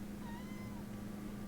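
A cat gives a couple of faint, drawn-out meows over a steady low hum in an indoor room, with no talking.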